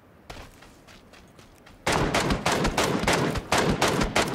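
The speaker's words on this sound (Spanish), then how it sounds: "Me disparan." Gunfire in a shooter video game: a sparse shot or two, then a rapid, close volley of loud cracks in quick succession, bursts repeating steadily to the end.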